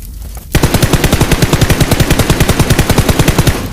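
Rapid sustained automatic gunfire from a battle royale video game, loud and close, bursting in after a brief quiet start and continuing as an even, fast stream of shots.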